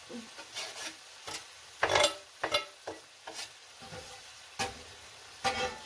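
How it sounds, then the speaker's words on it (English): Mushrooms being stirred into browning meat for stroganoff, with scraping utensil strokes and sizzling in a pan, several distinct stir bursts spaced irregularly over a soft frying hiss. "I want to put our mushrooms in because I want them to cook up with the meat a little bit"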